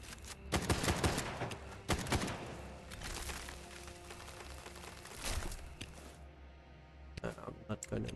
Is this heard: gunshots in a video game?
yes